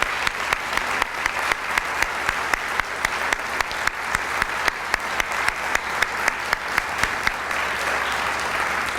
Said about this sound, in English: I'd like to applaud every one of them this morning.